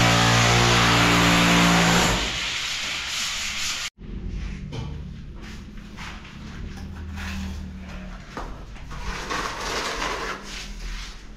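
A chipping gun breaks through a house wall to open a kitchen window, giving a loud continuous rattling hammer, then a brief cut followed by quieter scraping and knocking of debris.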